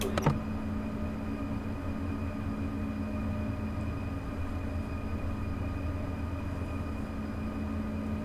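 An ICE 1 high-speed train pulls slowly out of Frankfurt in Train Sim World 6, giving a steady, even drone of traction motors and rolling wheels with a low hum and a brief knock at the start.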